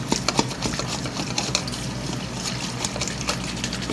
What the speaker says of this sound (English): you just kind of keep stirring it up